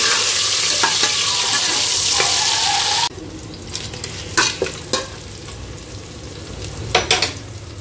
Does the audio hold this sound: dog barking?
no